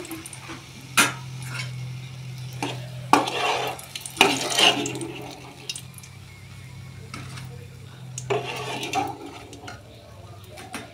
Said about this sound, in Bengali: পটল লালচে করে ভেজে তুলে রাখবো।